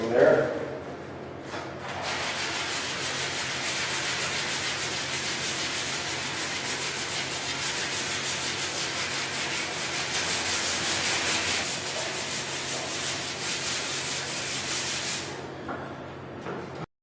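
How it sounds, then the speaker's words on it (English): 320-grit sandpaper on a sanding block rubs scratches out of a surface being prepared for primer and spray paint, making a steady, close, continuous scratchy hiss of back-and-forth strokes for about fifteen seconds. "I'm going to sand out all the scratches."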